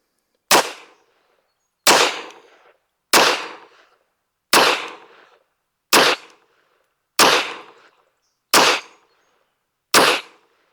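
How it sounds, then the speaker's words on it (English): Eight sharp, loud pistol shots from a Smith & Wesson M&P 22 Magnum fired at a target, evenly spaced about a second and a half apart, each with a short decaying tail. "Go shoot at that bottom left target"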